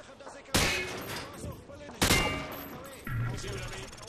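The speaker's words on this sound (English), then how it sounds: "He sprayed bullets all over the damn place." Rifle sprayed from the hip in Modern Warfare 2, three loud bursts of automatic gunfire with a ringing tail between them, set against faint background battle noise.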